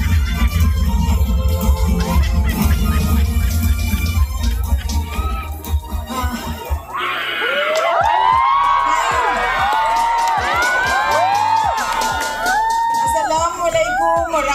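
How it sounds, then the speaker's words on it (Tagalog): A large crowd at a nighttime political rally for the Vice President in the Philippines shouts, whoops and cheers loudly, a dense roar that swells into excited high-pitched yells as an amplified voice speaks over it. "Pabayaan mo na sumigaw ang tao."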